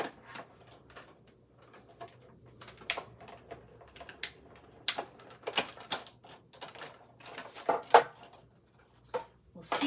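A manual die-cutting machine cranks a card and 3D embossing folder sandwich through its rollers, making irregular close clicks, knocks and rattles over about ten seconds, with faint background talk.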